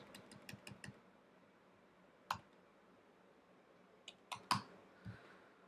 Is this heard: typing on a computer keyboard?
yes